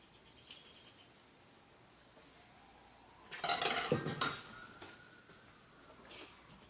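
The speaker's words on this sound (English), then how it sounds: "we're going to just fill up our pan." Blueberry biscuit dough is spooned into a baking pan, a short burst of metallic scraping and clinking of utensil on pan midway through an otherwise quiet kitchen, no talking.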